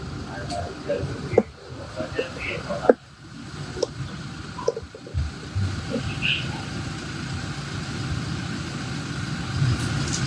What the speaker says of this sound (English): The engines of those police pickups are revving.